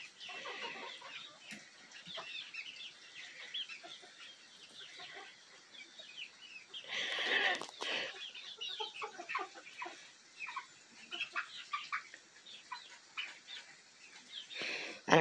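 Young pullets clucking and chattering in a chicken yard, a steady mix of overlapping clucks and peeps with a brief louder flurry midway, close by, with no talk.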